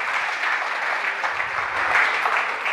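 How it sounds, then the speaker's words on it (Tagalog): A church congregation claps loudly and steadily in a dense, sustained burst of applause filling the room, with no voices standing out. "Ang mga pinagpala ng Panginoon ay pumalakpak ng malakas."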